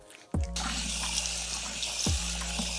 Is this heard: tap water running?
yes